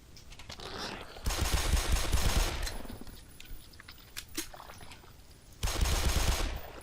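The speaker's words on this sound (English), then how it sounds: "I'm about to blow a lot of pistol ammo." Pistol gunfire in Black Mesa, loud sustained bursts of rapid shots with quieter stretches between them, some scattered impacts and clicks, and a voice partly under the firing.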